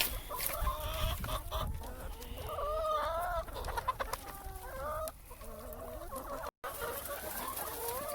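Chickens cluck and murmur steadily inside a coop, several birds overlapping in a continuous, close chatter of short calls.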